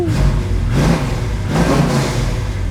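Heard from inside during a ride, a red 1969 Chevrolet Camaro SS 383 restomod revs loudly, its engine note rising and falling in repeated swells and pulls, with no talking.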